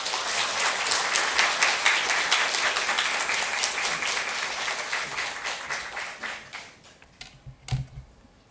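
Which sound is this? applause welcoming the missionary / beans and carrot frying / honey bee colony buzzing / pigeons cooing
applause welcoming the missionary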